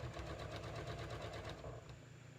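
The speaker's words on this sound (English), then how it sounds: "So basically now I'm just top stitching the facing in place." A sewing machine topstitches the facing of a crop layered tee, running in a steady rapid whirring chatter for about two seconds, faint and continuous before easing off near the end.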